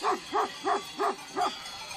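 A purebred Maremma sheepdog, a white livestock guardian from Abruzzo, barks five times in an even rhythm, moderately close and alone, with quiet background between barks.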